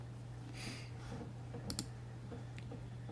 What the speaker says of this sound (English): press key control and press E on your keyboard